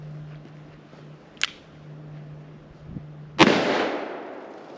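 Two sharp reports from a .44 Magnum loaded with 240 grain Black Hills jacketed hollow points, a small crack followed two seconds later by a louder, close blast with a long decaying tail, over a steady low hum.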